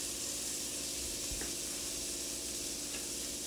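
Steak sears in melted butter and oil in a pan with a loud, continuous close-up sizzle and hiss, broken by a brief tap near the middle.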